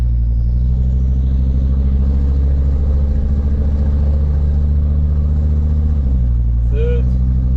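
A Jeep Grand Cherokee WJ 2.7 CRD diesel labours in third gear with a loud, steady engine drone and heavy low rumble inside the cabin. A person talks over it near the end.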